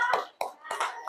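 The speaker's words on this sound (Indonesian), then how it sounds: "Ayo, beri aplaus semuanya." A classroom of children gives a brief burst of applause, a few quick hand claps heard close and fairly quiet.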